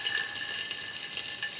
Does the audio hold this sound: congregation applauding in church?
no